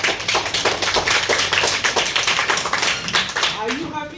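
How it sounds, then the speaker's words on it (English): Grade 3 schoolchildren at a school clap together in close, rhythmic, loud bursts of hand claps, nearby and continuous until a voice begins at the end. "Can we clap for grade 3?"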